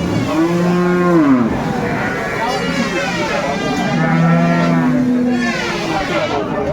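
Dairy cows moo loudly nearby at a cattle market in Aftabganj, Dinajpur, two long, drawn-out calls with a pause between, over background chatter and crowd noise.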